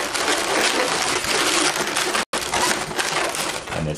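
Latex balloon being twisted into two small pinch twists while shaping a balloon-animal monkey in a suit: close, continuous squeaky rubber rubbing and crinkling, cut by a brief silent gap partway through.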